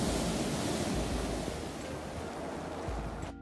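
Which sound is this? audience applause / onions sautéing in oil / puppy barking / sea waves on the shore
sea waves on the shore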